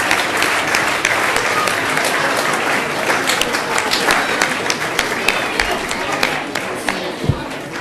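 An outdoor crowd at a town's 150th-anniversary celebration in Kaysville claps warmly and continuously for several seconds, a dense wash of applause with a few louder individual claps near the end.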